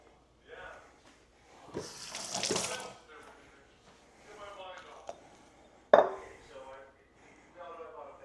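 A kitchen tap runs briefly as hands are wetted for sourdough dough, a short burst of splashing water amid soft clinks, with a voice talking quietly around it.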